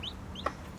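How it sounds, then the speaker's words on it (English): A hen clucks near her baby chicks on a farm, one short cluck amid faint high peeping from the chicks. "Look at this chicken with baby chicks."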